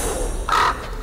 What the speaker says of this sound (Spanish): ¡Un cuervo!